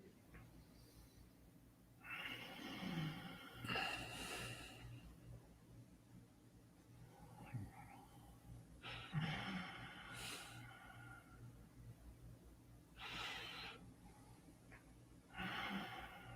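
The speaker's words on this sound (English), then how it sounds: "let's do the inhalation and exhalation together with the sound." A person doing a guided diaphragmatic breathing exercise, drawing slow audible breaths in and pushing them out with a voiced sound, several long cycles spaced a few seconds apart, fairly quiet and close against a steady low hum.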